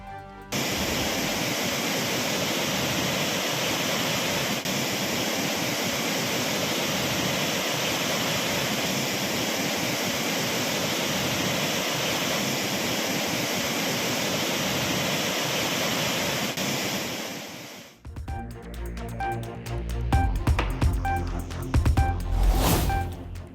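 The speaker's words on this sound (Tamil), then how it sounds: "ஒகேனக்கல் காவிரி ஆற்றில் கடும் வெள்ளப்பெருக்கு" The flooding Kaveri river roars at Hogenakkal falls as a dense, constant rushing wash of water for most of the clip, then cuts to a quieter, uneven stretch at the end.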